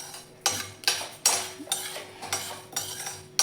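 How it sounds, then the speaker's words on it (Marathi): Spices stirred with a metal spatula as they dry-roast in a hot kadhai, a series of about eight distinct scraping strokes in steady rhythm, close and fairly quiet. "आता आपण सर्व मसाले भाजून घेऊ."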